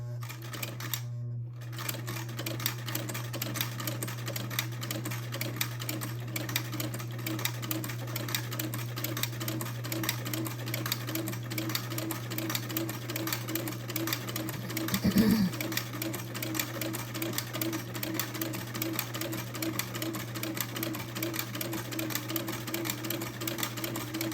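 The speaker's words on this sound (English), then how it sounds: "lower the presser foot, and then begin to sew the buttonhole" A home sewing machine with a buttonhole attachment stitches a buttonhole on a child's heirloom bubble romper, giving a steady, continuous mechanical hum with rapid needle clatter throughout and one brief louder bump partway.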